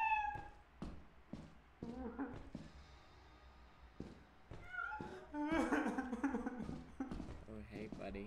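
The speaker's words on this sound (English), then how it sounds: "Sounds like my cat." A pet cat meows several times in short, rising calls, fairly close and moderately loud, mixed with a person talking and soft footsteps or knocks.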